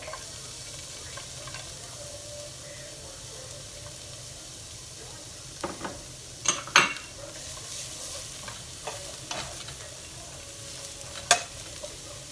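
Garlic frying in a pan, a quiet steady sizzle beneath scattered scraping stirs and a few sharp utensil clicks against the pan, with no talking.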